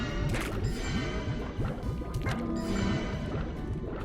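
Quantum slimes teleporting in the video game Slime Rancher, heard as a busy stream of wet, squishy, bubbling blips and soft warbling pops, steady and moderately quiet throughout.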